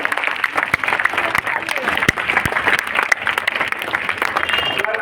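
A school morning assembly crowd of students claps steadily for class 12A, a dense, loud burst of hand claps with individual sharp claps standing out, sustained for several seconds with voices mixed in.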